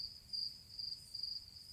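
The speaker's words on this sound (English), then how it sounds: "All I hear is crickets." Crickets chirping in a steady, high, pulsing trill that repeats in short bursts, continuous and moderately loud over a faint low background hum.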